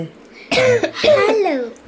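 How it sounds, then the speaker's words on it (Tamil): A couple of close, harsh coughs in quick succession, loud and short. "இந்த அவருக்கு இருமல் வந்துருச்சு."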